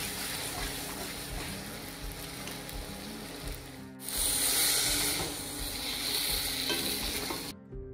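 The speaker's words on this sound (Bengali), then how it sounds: "মশলা কষানোর পর এবার মাপ মতো গরম জল দিয়ে দিচ্ছি" Hot water pours into a sizzling omelette curry, with a sudden louder rush and hiss over the steady frying noise partway through, then an abrupt cut to silence near the end.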